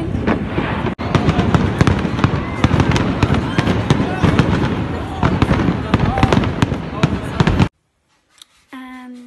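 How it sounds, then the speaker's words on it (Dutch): New Year fireworks in Antwerp crackle and bang in a dense, continuous barrage for several seconds, then cut off abruptly into near silence, with a faint tone at the very end. "En we gaan nu wachten tot dat vuurwerk begint."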